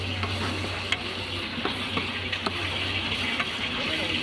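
Tomatoes sauté in a pan of onions for a Singapore crab curry, giving a steady close sizzle with regular spatula scrapes and clicks against the pan, with no talking.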